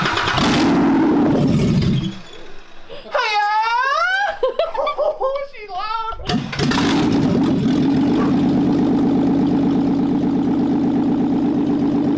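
A Toyota Land Cruiser Chinook motorhome engine cranks with a loud rough churn, then whooping laughter and cheering take over, before the engine catches and settles into a steady, close, droning idle.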